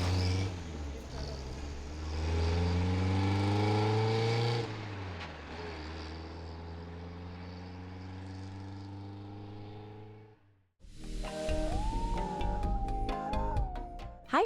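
A car engine hums steadily as the car drives away with dogs inside, the tone sagging and fading out before music takes over.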